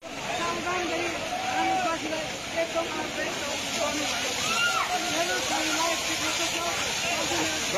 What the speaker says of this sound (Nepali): धरानवासी पानीको फोहोरामा भिज्दै गरेको देखिन्छ